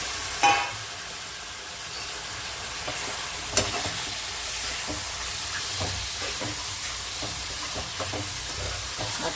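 Mutton frying in a pan while being stirred, a steady loud sizzle running throughout with scraping stir strokes and a couple of sharp clanks, no voices.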